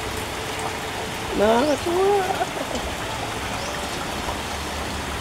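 Steady rain pours down on a flooding street during a hot spell, a constant hiss of water, while someone speaks briefly over it in the middle.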